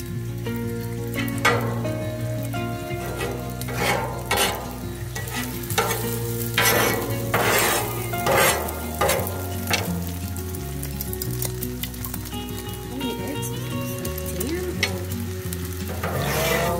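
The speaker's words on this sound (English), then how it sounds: "We're gonna put more bacon grease so we can start frying our eggs." Eggs frying in bacon grease on a flat-top griddle, with crackling sizzle and repeated scraping stirs over a steady tonal background, fairly close throughout.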